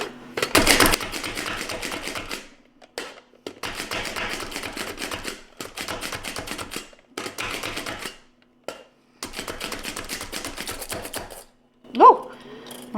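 Ingredients for chicken chile relleno soup are chopped finer on a board, producing rapid, close, rhythmic knife taps in several bursts separated by short pauses, with a brief clatter near the end.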